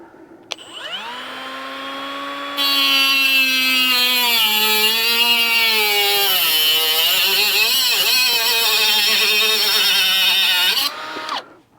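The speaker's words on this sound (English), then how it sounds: "It seems to cut the brick very well." A Hyper Tough 12V cutoff tool spins up with a whine, then bites into brick with a loud, steady grinding screech that holds for several seconds before the blade stops and winds down.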